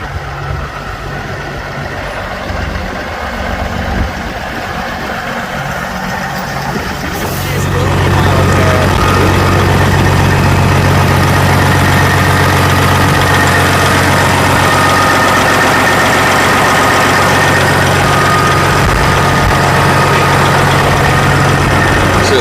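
A truck engine idles loud and close, a steady low rumble that thickens and grows louder partway through, with a voice speaking over it early on.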